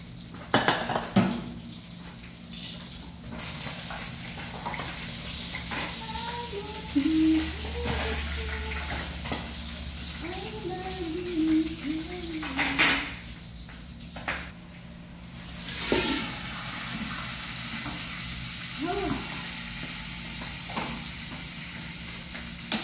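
Pots, pans and utensils clank and scrape while pinakbet and milkfish (bangus) are cooked, with intermittent metallic knocks, stirring and a low sizzle running throughout.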